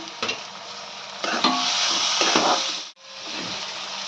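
Onion, cauliflower and capsicum sizzle in a pan for vegetable pulao while chopped tomato is stirred in. A close, steady frying hiss carries scraping stir strokes, a short break, then the sizzle returns.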